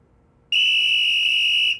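A safety whistle blown at a dinner table gives one steady, shrill, loud blast of about a second and a quarter, close and alone with no talk over it.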